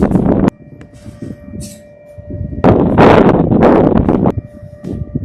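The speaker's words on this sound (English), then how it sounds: "It's a windy day, that's for bound." Gusty wind buffets the microphone in rough, swelling bursts, with a low rumble underneath and a steady faint tone in the background.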